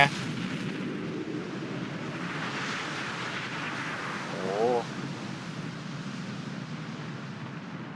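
A nuclear bomb detonates in the strategy game Civilization VI, a deep rumbling blast that rolls on steadily for several seconds at moderate loudness, with a brief swelling whoosh midway.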